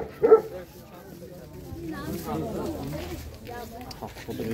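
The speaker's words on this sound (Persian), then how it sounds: "سگ قرقیزی بداست" A 70-day-old Kyrgyz puppy barks with one sharp yip near the start at a dog market, followed by continuous murmur of people talking and crowd noise.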